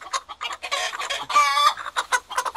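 A rooster and hens in a flock being vaccinated against Newcastle disease cluck and squawk loudly up close, with rapid overlapping calls and one longer strained cry in the middle.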